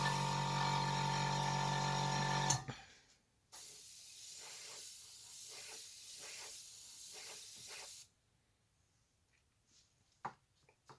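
An airbrush sprays paint onto a Tamiya 1/48 scale BA-64B armoured car model, a steady airy hiss with slight pulsing that lasts several seconds, preceded by a loud humming compressor that cuts off abruptly.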